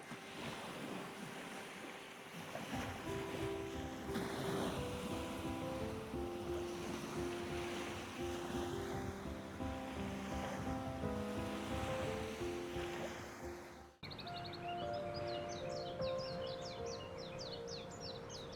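Sea waves wash clear chunks of ice onto black volcanic sand on Iceland's Diamond Beach, a steady surf wash with wind noise, overlaid by a soft sustained musical tone throughout.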